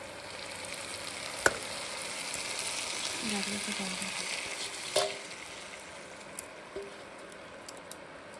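Khichuri with moong dal cooking in a pot, a faint, steady sizzle and bubbling hiss running throughout, broken by a few soft clinks and scrapes of stirring.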